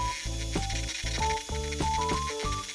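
An electric egg beater whipping cream into butter: a loud, close motor whine that keeps stepping up and down in pitch as the beaters churn through the cream.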